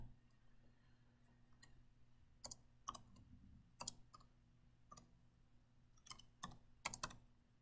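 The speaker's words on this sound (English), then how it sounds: "I was doing all that typing and nothing was going in there" Irregular clicks of computer keys being typed at a slow, uneven pace while drafting a house plan in AutoCAD, close but quiet, over a faint low hum, with no talking.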